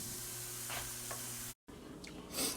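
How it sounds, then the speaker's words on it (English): Steady sizzling and crackling of chicken frying in a pan, fairly quiet, with a brief stir or clatter and a short silent break midway. "So I got some chicken cooking right there. Just frying it up in the pan, just warming it up."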